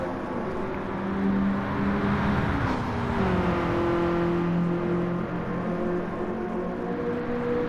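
BMW E30 M3 race cars at full throttle at Suzuka, engines roaring steadily with rising and shifting tones as they accelerate, a close, loud and continuous drone with no talk.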